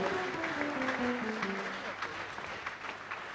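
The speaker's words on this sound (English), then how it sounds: "Can we continue to clap for Madam Pearl?" Audience applause at a Founders' Day ceremony, a moderate crowd clapping steadily while a held musical or vocal tone runs underneath, the clapping gradually thinning out.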